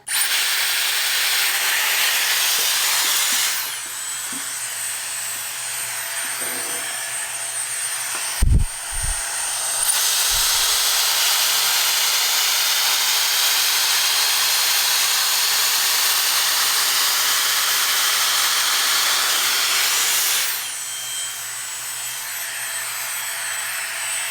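A Dyson Airstrait hair straightener blows on hair with a loud, steady whooshing rush of air in two long stretches, broken by a short quiet gap with a few handling knocks.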